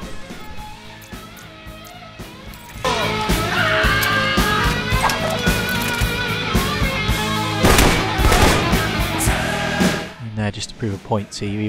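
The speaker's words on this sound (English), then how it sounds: "even the assault rifle is doing minimum amounts of damage to him at this point" Sustained assault rifle gunfire in the Alpha Protocol boss fight against Konstantin Brayko, loud bursts of rapid shots layered over game music and effects, with someone talking over the start and near the end.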